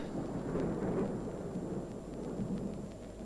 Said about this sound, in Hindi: वर्षा थम रही है।